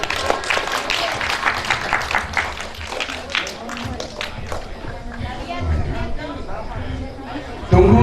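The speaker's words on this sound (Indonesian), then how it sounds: "Tepuk tangan untuk Kataha." A small indoor gathering of school alumni claps briefly while voices chatter and footsteps shuffle, the applause thinning out under ongoing talk.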